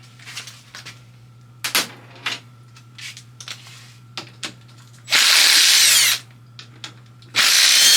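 A power tool loosens bolts on a Trailmaster 161QMK 200 motor, with two loud, close whirring bursts of about a second each after scattered clinks and taps of parts being handled.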